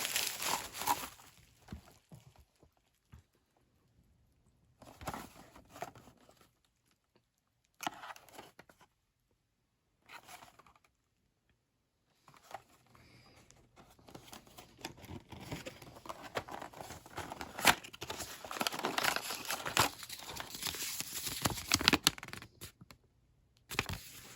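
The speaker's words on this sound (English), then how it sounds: "we'll go ahead and cut off the bubble wrap, and we will get it out of the box" Bubble wrap being cut off and pulled away from a boxed AHM Norfolk & Western model caboose: scattered crinkling and snipping at first, then a steadier run of close rustling and crackling plastic toward the end.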